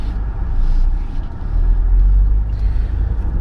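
A car driving along the road produces a steady low rumble with road noise, loud and close, with no other prominent sounds.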